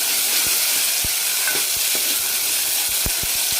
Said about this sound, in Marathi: आणि नंतर आपण एक टोमॅटो टाक टाकणार आहोत बारीक कापून घेतलं आणि याला छान नरम होऊ द्यायचं